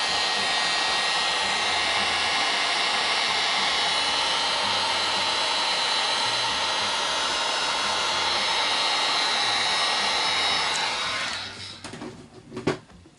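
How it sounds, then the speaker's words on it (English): A heat gun blows over resin wine bottle stoppers as a steady, close, loud airy whoosh that lasts about eleven seconds. It then winds down into quiet handling clicks. "Let's just heat gun."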